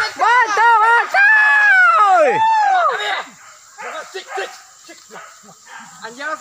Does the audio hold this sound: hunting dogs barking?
yes